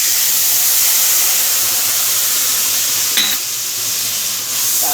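Chili paste mixed with cumin powder, salt and turmeric sizzles steadily in hot oil for a Bengali fish curry, with a brief stirring scrape partway through and no voices.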